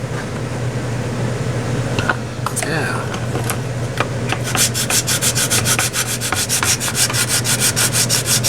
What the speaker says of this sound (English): just keep sanding, guys, until it's there